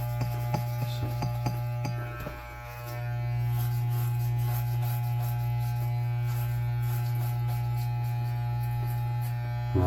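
Electric hair clippers buzz steadily while shaving the back of the head near the base of the skull, a close, constant droning hum with a few light clicks at the start and a brief dip before running continuously.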